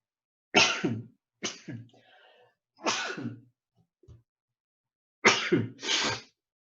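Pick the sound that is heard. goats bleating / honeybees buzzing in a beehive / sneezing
sneezing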